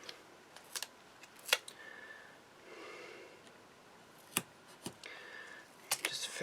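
Scissors trimming around the edging of a Hunkydory Florabunda craft card, several sharp close snips scattered through a quiet room with soft rustling between them.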